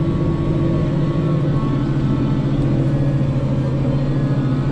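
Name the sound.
Zetor Crystal 170HD tractor driving with Runner cultivator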